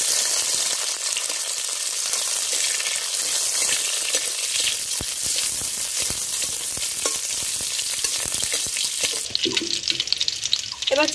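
Whole garam masala, cashews and raisins frying in hot oil for Basanti pulao, a steady close sizzle with stirring scrapes, brighter spattering near the end.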